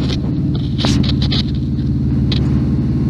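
The engine of a Renault 5 Maxi replica runs loudly at idle on its first start, a deep steady rumble close by with a few faint higher clicks over it.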